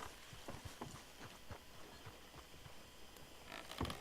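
A horse's hooves clip-clop in the video game Red Dead Redemption 2, a faint, steady walking rhythm of hoof beats with a louder thump near the end.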